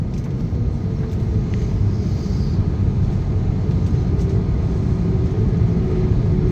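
An airplane taxiing toward the runway at Haneda airport in Tokyo makes a steady, loud, low rumble that continues unbroken throughout, with no voices.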